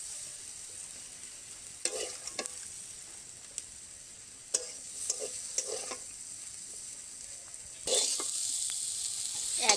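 Vegetables for chicken fried rice sizzle in a pan under a faint, constant hiss, broken by scattered scraping stirs and clinks of a utensil, and a louder burst of sizzling near the end.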